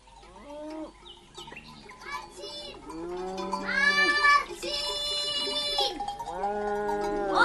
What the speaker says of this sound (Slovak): Kravy zoženieme do jedného stáda